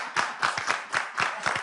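A few people clapping in a small indoor setting, about six or seven distinct, slightly uneven claps over under two seconds, close and fairly loud.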